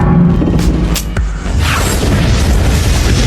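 A massive explosion tears through an underground garage in a film scene, a loud booming blast with a sharp crack followed by a long, roaring rumble of debris and echo that fills the enclosed space.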